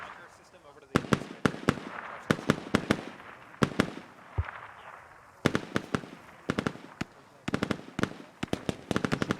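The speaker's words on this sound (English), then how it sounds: "There's one mortar in the air right now." Mortar fire in the Squad video game sounds as a series of sharp, loud blasts, spaced irregularly and sometimes clustered, with voices talking quietly in between.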